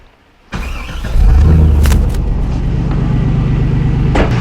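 A car engine idles steadily during a MAF sensor diagnostic test, a low continuous rumble that rises slightly about a second in and then holds even and close for the rest of the clip.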